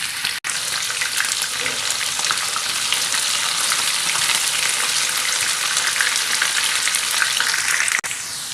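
Okra sizzles and crackles hard in a pan over high heat for keema bhindi, a dense, loud, steady frying hiss with a brief break near the start and another near the end, no voices.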